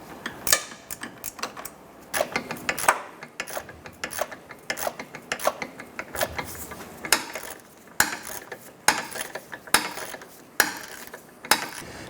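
A ratchet tightens the sway bar bracket bolts on a 2006-2013 Chevrolet Impala, giving repeated close, sharp clicking bursts in an uneven rhythm, loud and with no talking.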